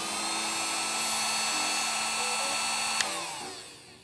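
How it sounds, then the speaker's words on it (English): A cheap heat gun running on its first setting, a loud close-up motor whine with steady blowing air, then a brief click near the end as the whir starts to wind down. "One thing I've noticed, this heat gun is loud."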